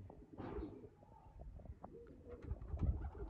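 A pigeon coos close by in soft, low, throaty notes, with faint chirps and rustling around it.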